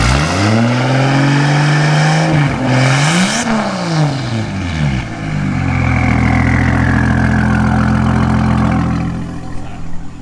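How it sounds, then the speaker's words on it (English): A car engine, recently run without its fan, revs loudly nearby and then settles while a turbo's high whine winds down to a steady idle over a deep exhaust rumble. "Hear that whine down to the turn."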